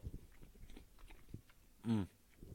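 A person chewing and biting Chinese food up close, with soft crunchy bites and one louder, brief crunch near the end, against quiet background murmur.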